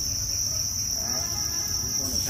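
Thai crickets chirp steadily on a cricket farm, a dense high-pitched trill that runs continuously at moderate loudness, with low rumbling background noise beneath and no talk.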